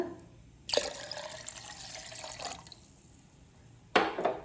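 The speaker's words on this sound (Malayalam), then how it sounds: "2 കപ്പ് വെള്ളമാണ് ഒഴിച്ചു കൊടുക്കുന്നത്." Cold water from the fridge is poured into a mixer jar holding mint lemon juice ingredients, a steady splashing pour followed by a pause and a second short splash.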